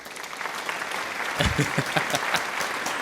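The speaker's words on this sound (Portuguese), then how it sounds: "O aplauso ali é no botãozinho do Gabriel" Applause sound effect triggered from a button during a podcast introduction, a steady clapping texture with a few sharper claps, carrying on under a host's voice.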